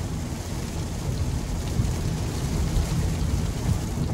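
Rain drums steadily on a 2021 Kia Sorento Hybrid S while it drives, a dense, even patter over a low road and cabin rumble. The sound stays constant throughout and no one speaks.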